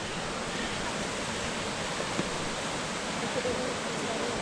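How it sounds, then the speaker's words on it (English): Rushing water from the Algar waterfalls in Spain forms a steady, dense roar heard from a short distance, unbroken throughout with no voices. "Yeah, the waterfall's down there."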